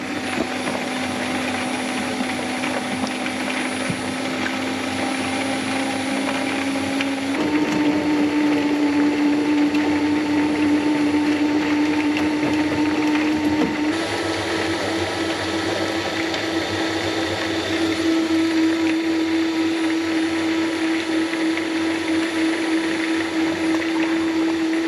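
A honey extractor spins frames at high speed with a loud, steady mechanical hum and whir, stepping up in pitch twice as it is brought to higher settings, running smoothly with no speech.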